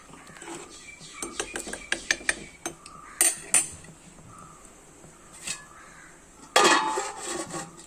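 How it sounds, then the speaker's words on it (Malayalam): A spoon scrapes and clinks against a metal pot of prawn and raw mango curry in a series of sharp taps, followed by a louder clatter near the end. "ജസ്റ്റ് ഒന്ന് തിളച്ച് വന്നപ്പം ഒന്ന് ഇളക്കി കൊടുക്കാമേ"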